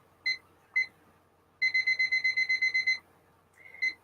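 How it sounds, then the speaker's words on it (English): A timer goes off in a series of beeps: two single beeps, then a quick run of about ten evenly spaced beeps, then another pair. The sound is clear and close, with no voices. "and then I'll get the timer set."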